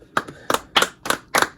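Hands clap five times in an even, steady rhythm, close and fairly loud, with brief quiet between the claps.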